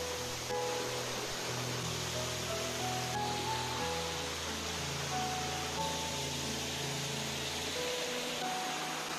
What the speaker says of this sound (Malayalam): ഇതാണ് ആദ്യത്തെ വെള്ളച്ചാട്ടം.